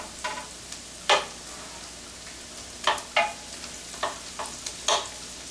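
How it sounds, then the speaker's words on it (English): A soft, continuous sizzle of shrimp frying in a pan, punctuated by several scraping stirs spaced a second or so apart, no voices. "You can see it sizzling nicely."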